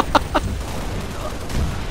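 Pistol shots from Halo Reach, two sharp cracks close together near the start, followed by quieter game background noise.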